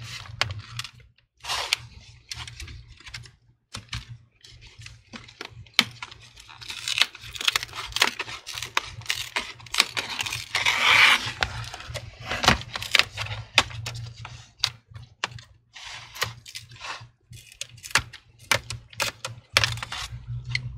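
Adhesive tape peels and crackles as the screen bezel is pried off a Dell Latitude 5400 laptop, an irregular series of close tearing, clicking and plastic snapping bursts separated by short pauses.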